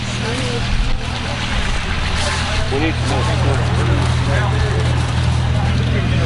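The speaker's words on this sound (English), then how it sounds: "Comes another tractor in, girl." An old tractor drives in at a farm day show with a loud, steady, low engine rumble running the whole time, while people nearby talk over it.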